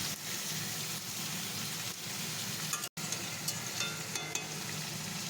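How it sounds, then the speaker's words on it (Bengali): Fish and potatoes fry in a pan, giving a steady, even sizzle with small crackles and pops. No voices are heard. "তো চলো এবার মাছগুলো দিয়ে দিই"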